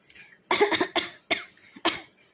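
Four or five harsh coughs in a quick, uneven burst, close and fairly loud, with brief pauses between them.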